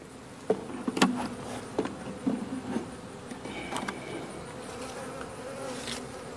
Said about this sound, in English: we're looking at probably close to 3 frames of bees